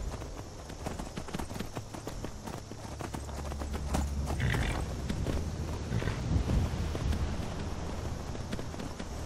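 Steady clip-clop of horse hooves at a walking pace in Skyrim, close and fairly loud over a windy background, with a brief murmur from a person.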